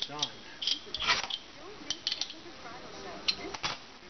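A 1/4-inch coupling nut is threaded onto a threaded rod, giving close, small metallic scrapes and ticks in irregular bursts, with a voice in the background.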